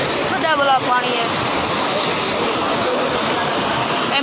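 A flooding hill torrent of rushing water roars continuously, a dense loud wash filling the whole scene without pause, with faint voices partly buried beneath it.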